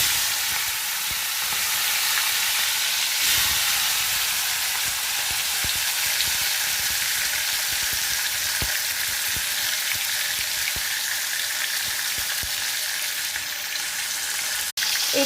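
Hilsa fish heads fry in hot oil in a wok, a steady loud sizzle with bubbly crackle running unbroken for the whole stretch, with a few stirring scrapes and no voices.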